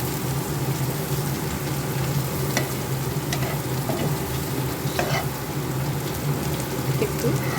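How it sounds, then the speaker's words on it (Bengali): Onions fry in a pan with red chilli powder, giving a steady loud sizzle throughout with a few light scrapes of stirring. "একটু ফ্রাই হয়ে গেছে পেঁয়াজটা।"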